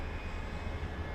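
A steady, broadband roar of aircraft engines carries in the background at Dallas Fort Worth airport at night. It is faint and continuous, with no voices over it.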